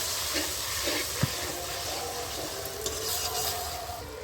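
Spice masala being stirred and fried in a pan while cooking a rohu fish curry with cauliflower, a steady close sizzle and scraping with a few sharper clinks of the spoon, no talking.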